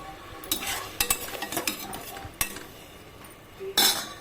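Onion paste is stirred in a pan for chicken biryani. A spoon scrapes and clinks against the metal in irregular strokes over a faint frying sizzle.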